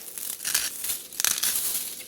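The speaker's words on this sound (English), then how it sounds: "what I like to use is pink Himalayan sea salt. So what I'll do is I'll just grind this over top" Pink Himalayan sea salt is ground by hand over chicken wings being seasoned for the air fryer, giving close, gritty crackling bursts that come in quick uneven pulses with no voices.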